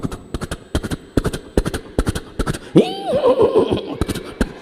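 A voice imitates a horse neighing, a rising and falling whinny-like cry of about two seconds, set between bursts of rhythmic clapping or tapping at a religious school Quran-completion celebration.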